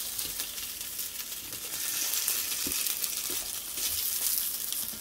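Naked Glory plant-based sausages frying in a shallow pan of oil give a continuous close sizzle with bright hissing spatter and a few soft knocks, rising slightly in intensity partway through, with no voices.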